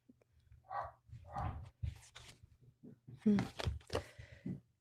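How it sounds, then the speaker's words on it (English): Dogs bark and yelp a few times at a moderate distance, mixed with a person talking nearby. "I don't know why the dogs are barking, if you can hear that."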